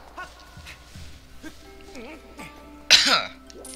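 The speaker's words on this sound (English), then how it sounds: "Why am I always coughing?" A single sharp cough bursts out near the end, loud and close, after a stretch of quiet shuffling and small vocal sounds.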